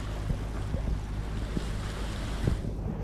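A sailing yacht's motor gives a steady low drone throughout in light wind, mixed with wind buffeting and the wash of water, with no talking.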